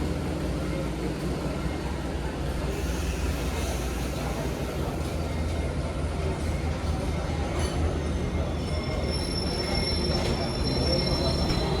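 The Kahuripan economy train rolls slowly into track 1 at Blitar station, its wheels grinding and squealing against the rails in a loud, continuous rumble, with thin high screeches rising near the end and faint voices in the background.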